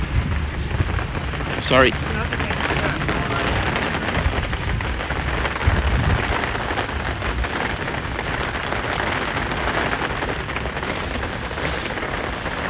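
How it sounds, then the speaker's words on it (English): A heavy Florida thunderstorm pours rain in a steady, dense roar close by, with a few louder rumbling swells and a brief spoken word over it. "This is what a typical Florida thunderstorm looks like."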